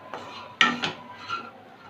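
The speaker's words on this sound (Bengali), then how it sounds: "একটু নেড়ে চেড়ে নেব।" A few scattered metallic clinks and scrapes of a spoon against a pan while stirring chicken soup ingredients, quiet and sparse, with brief gaps between the strikes.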